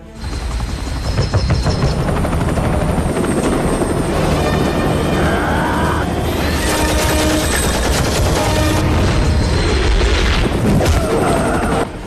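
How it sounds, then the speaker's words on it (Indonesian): A combat helicopter's heavy rotor drone fills the scene, mixed with dense bursts of gunfire and booming explosions, loud and continuous throughout. "DIG memerintahkan untuk mengeluarkan helikopter tempur."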